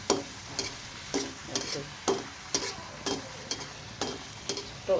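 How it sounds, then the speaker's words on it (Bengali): Luchi deep-frying in oil in a small wok, a steady soft sizzle broken by regular scraping and stirring knocks roughly every half second, close and moderately quiet with no talking. "আর একটু ভালো করে ভাজলে খেতে খুবই খাস্তা হয় সেই জন্য লুচিটা একটু বেশি বেশি ভাজি আমি"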